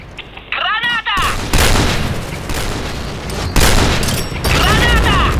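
Grenades go off in the Point Blank shooter game as loud, heavy booms over bursts of gunfire, with a dense, continuous battle din and a raised voice briefly heard among the blasts.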